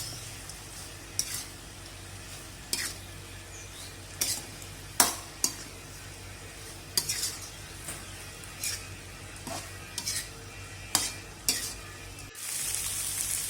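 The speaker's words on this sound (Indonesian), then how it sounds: "Aduk lagi sampai kering dan minyaknya keluar." Potatoes frying in sambal goreng with chicken gizzards and liver in a pan, a soft steady sizzle punctuated by regular spatula scrapes and knocks every second or so as it is stirred.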